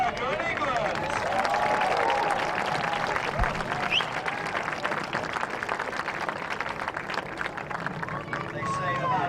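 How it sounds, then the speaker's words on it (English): A large polo crowd applauds and cheers loudly, a dense, sustained wash of clapping and voices with a few whistles rising above. "Let's have a huge cheer and a huge round of applause for South America and England"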